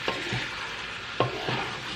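Ackee and pepper being folded over in a pan, a few soft scraping stirs near at hand over a low steady background with no voices.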